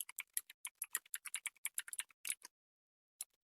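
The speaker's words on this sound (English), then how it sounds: "type in the title," Rapid, irregular keystrokes on a computer keyboard while a title is entered in PowerPoint, a dense burst of close, crisp clicks, then a pause and a final single tap, with no talking.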